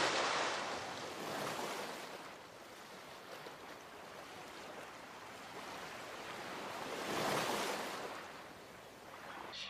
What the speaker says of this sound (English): it was completely silenced except for the sound of the water